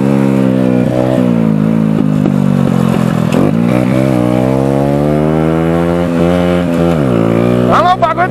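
A motorcycle accelerates hard from a standing start, its loud, close engine whining up in rising sweeps as it shifts through gears, with voices heard briefly.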